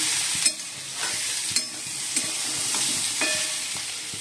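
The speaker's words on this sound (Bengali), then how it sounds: "আলু পেঁয়াজ ভেজে নিচ্ছি" Potatoes and onions frying in a pan, a constant loud sizzle broken by a few sharp scrapes of a spatula stirring, with no talking.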